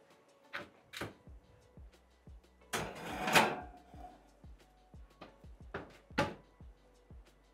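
Casserole dish going into an oven, with scattered clicks and knocks, a louder clattering scrape in the middle, and a final sharp thump of the oven door closing in a quiet kitchen.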